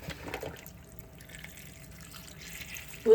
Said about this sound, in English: now we're gonna cover it with broth